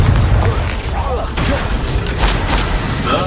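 Explosive bursts and rumbling booms from the Confringo spell fill a Hogwarts Legacy battle, layered with a continuous clatter of combat effects and spoken spell calls.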